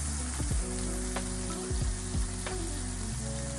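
Onions sizzle and fry in butter in a pan, a steady close crackling hiss with a few soft scraping stirs, no voices.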